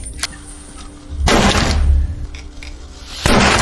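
Two loud pistol shots at a door padlock ring out about two seconds apart, each a sharp bang followed by a booming, echoing rumble.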